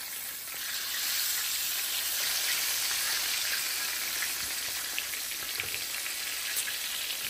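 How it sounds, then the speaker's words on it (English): Pork chops frying in a cast iron pan, a steady close hiss and sizzle with faint crackles holding at an even level throughout, no voices. "So I got these bad boys frying"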